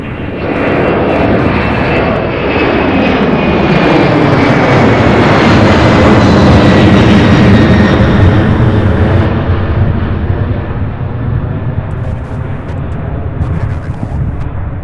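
A UPS heavy freighter jet at Louisville airport roars loudly and continuously, its engine tone swelling to a peak and easing as it passes close by, with no talk over it.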